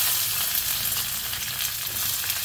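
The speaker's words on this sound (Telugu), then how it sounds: "ముందుగా కట్ చేసి పెట్టుకున్న ఆనియన్, కరివేపాకు కూడా వేయాలి" Chopped onions and curry leaves frying in hot oil for vegetable biryani, producing a loud, dense, steady sizzle up close with no voices.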